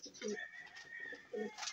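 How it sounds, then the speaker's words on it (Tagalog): Soft, low pigeon coos come in two rounded bursts, one early and one near the end, with faint bird chatter and background hiss between them. "Ayan ang mga ibon natin."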